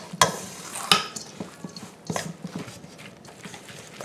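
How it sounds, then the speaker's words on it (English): Zucchini fritter batter with egg yolks and seasonings being mixed in a bowl, with a few sharp utensil knocks against the bowl followed by softer irregular stirring clicks and scrapes, close up and without voices. "Just going to mix all this up together until everything is well blended."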